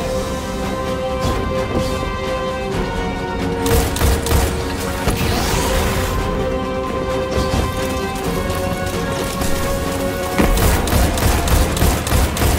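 Dense, continuous gunfire and booming blasts from a Destiny 2 Master 980 Nightfall mission (The Ordeal, The Arms Dealer), with rapid overlapping shots and impacts throughout, loud and busy in a chaotic firefight.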